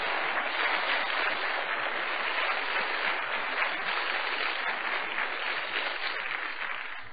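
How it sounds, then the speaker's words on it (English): Church congregation clapping during a sermon, a sustained, even roar of many hands with no talk, fading slightly at the end. "go ahead and clap if you want to,"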